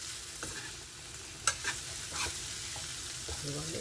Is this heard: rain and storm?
no